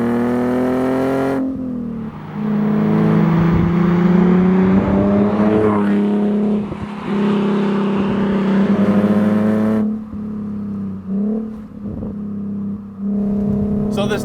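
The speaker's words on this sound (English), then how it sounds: "this does have a muffler delete, so a little bit more droney than usual, but also a little bit more loud" A Nissan 370Z NISMO engine with a muffler delete drones loudly with a deep, raspy exhaust note, rising and falling through several revs before settling back to a steady idle.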